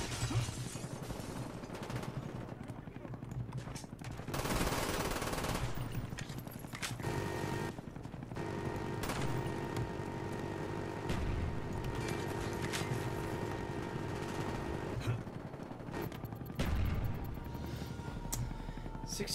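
Gunfire and explosions in the PC game Call of Duty: Black Ops during online multiplayer, a dense continuous roar of shots and blasts that barely lets up for the whole stretch, loud and busy.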